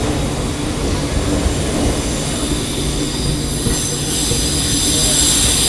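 A passenger train with ICF coaches rolls along the rails close by near Udupi, a loud continuous rumble with rhythmic wheel clatter and a high metallic squeal rising toward the end.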